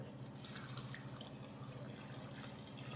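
Water poured from a tap into a cooking pot holding spiced kadachakka (breadfruit) pieces with crushed ginger, turmeric and salt, a steady splashing trickle heard up close and alone.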